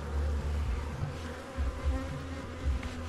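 A small swarm of honeybees lodged inside a wall gives a steady, close buzzing drone that keeps going without a break.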